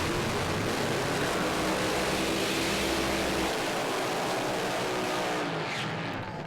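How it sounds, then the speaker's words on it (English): Pro Slammer drag racing cars do burnouts at a strip, a dense continuous roar of engines and spinning tires filling the whole stretch, loud and unbroken with no talk. "Not a whole lot of smoke out of either of these cars for the burnout"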